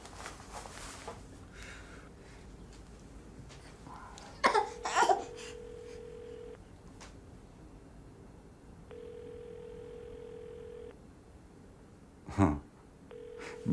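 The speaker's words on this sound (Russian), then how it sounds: "Ну давай я позвоню." A telephone call is dialed and rings out, with a sequence of dialing tones and then long repeated ringback tones spaced a few seconds apart. Brief clatter of handling the phone sounds between them.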